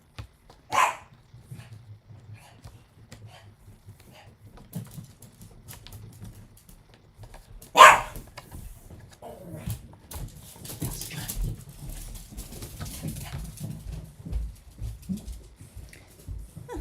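Hungry puppies waiting for breakfast give two sharp yips, one near the start and one midway, with faint whimpers, shuffling and tapping in a quiet room between them.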